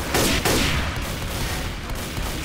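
Shotgun blasts ring out at an oncoming zombie horde in Left 4 Dead 2, two loud close booms in quick succession with long decaying tails, followed by a rumbling, busy game background.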